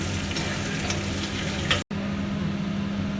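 Magur catfish frying in a pan, a steady loud sizzle and crackle close by, briefly cut off near the middle and then continuing with a low hum.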